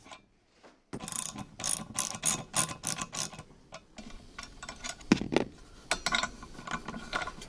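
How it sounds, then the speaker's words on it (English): A 14mm wrench loosens clutch bolts on a Zenoah engine, giving rapid close ratcheting clicks in repeated bursts with short pauses, and no one talking. "Next thing is you're going to get your 14mm wrench, remove those clutch bolts."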